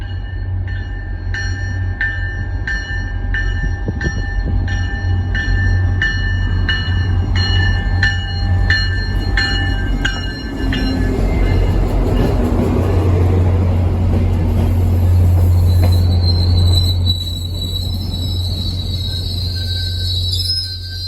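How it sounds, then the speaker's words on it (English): Two commuter rail trains, one led by a GP40MC and one by an F40PHS3C locomotive, roll through Ayer, Massachusetts, with a bell ringing, a loud diesel rumble and high wheel squeal building as they pass close by. "here are two commuter rails coming through Ayer, one with the GP40MC and one with F40 PHS3C"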